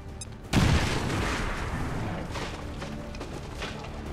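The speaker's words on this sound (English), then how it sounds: "I want you to use your grenade on the Muton" A grenade explodes in the XCOM 2 video game after a brief quiet start, a sudden heavy boom followed by a sustained rumble with scattered gunfire crackling through the rest.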